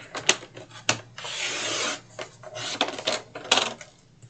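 Paper is trimmed to cut off its white borders, with close, quick snipping and rasping cuts in short bursts and one longer continuous slice, fairly quiet with small pauses between strokes.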